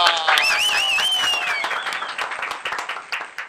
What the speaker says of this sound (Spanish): Aquí un aplauso fuerte para la Real Corona.